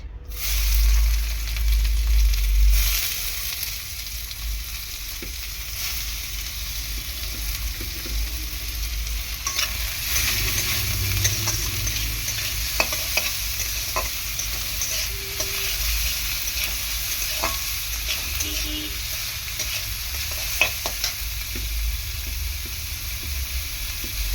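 Finely chopped onions frying in oil in a pan for a spicy Maggi noodle snack, a continuous even sizzle with a brief knock of the pan at the start and occasional soft spoon taps.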